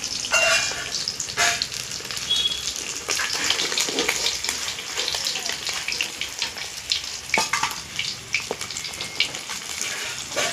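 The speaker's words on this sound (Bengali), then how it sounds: "প্রথম করে মাছগুলো ভাজা হয়ে গেছে," Pieces of katla fish fry in a pan, giving a busy crackling sizzle with sharp spitting pops of oil scattered throughout, moderately loud and continuous.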